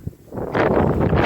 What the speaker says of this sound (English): it's golly windy